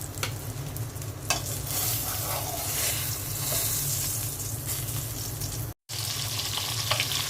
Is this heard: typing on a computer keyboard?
no